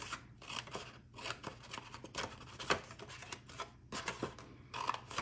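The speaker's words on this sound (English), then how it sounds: "I'm going to take my snips" Metal snips cutting sections from sheets of patterned card paper, a steady run of sharp close clicks and crunches, repeated in quick succession with no talking.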